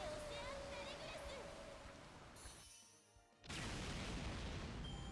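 A Noble Phantasm attack explodes in Fate/Grand Order, a loud, washy burst that drops away briefly, then returns as a sustained roaring blast over game music and sung voice lines.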